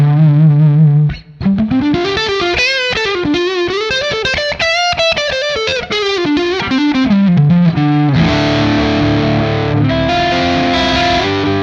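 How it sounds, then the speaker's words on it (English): A Gibson Les Paul Standard electric guitar on its bridge pickup, heavily distorted, plays a fast, loud, dynamic lead run of bent and sliding notes, ending in thick sustained chords. "Just a really nice dynamic sound out of that bridge pickup."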